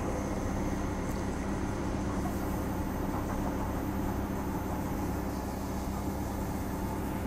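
Interior rumble of a moving commuter train in Western Australia, from Bayswater toward Edgewater: a constant low, broadband drone with a whooshing hiss above it, steady throughout with no voices.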